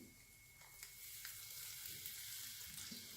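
Puff puff dough frying in hot oil, a steady, fairly quiet sizzle with soft crackles and a few small pops throughout, no talking.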